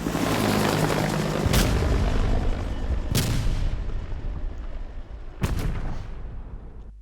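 A supply drop helicopter in Call of Duty Cold War thunders as a dense, loud rotor roar, broken by three sharp gunfire-like booms, with no talk.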